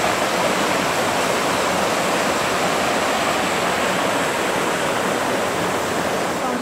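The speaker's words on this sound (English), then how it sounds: "Here's the river going." Steady, full rush of a river flowing nearby on a farm, a dense continuous watery roar with no breaks and no talking over it.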